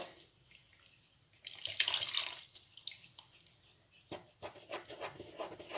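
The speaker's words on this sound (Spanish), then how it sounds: "También vamos a echar los 2 vasos de agua" Water pours into a bowl of baghrir crêpe batter for Moroccan thousand-hole crêpes, a brief splashing stream in the middle followed by a few scattered drips and light sloshes, fairly faint and close with no talking.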